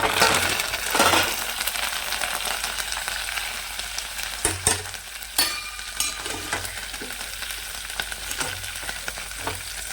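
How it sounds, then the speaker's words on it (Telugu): Dried red chillies, curry leaves and mustard seeds sputter in hot oil for a tempering, a steady loud sizzle with scattered pops and metallic clinks of stirring, no voices. "ఎండుమిరపకాయలు వేసేస్తున్నానండి. వెంటనే కరివేపాకు, ఆవాలు కూడా."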